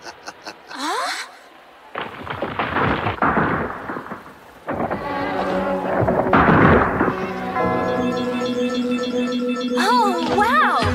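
A deep rumbling blast booms through a Yu Yu Hakusho anime tournament fight, with a crackling, rolling roar that swells and lingers alongside sustained tonal effects and a rising whistle near the end.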